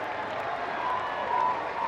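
Home crowd at a Madison Radicals ultimate frisbee game, a steady wash of distant cheering and applause that holds for about two seconds with a slight swell near the end.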